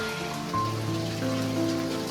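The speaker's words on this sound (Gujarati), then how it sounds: "મસ્ત મજાનો વરસાદ આવી રહ્યો છે અત્યારે" Rain patters steadily on a surface during a three-hour downpour in Bhavnagar, a dense, even wash of drops close by with a faint tonal hum underneath.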